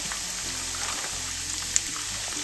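Garlic frying in oil left over from frying tofu, a steady soft sizzle and crackle close by with a faint low hum underneath.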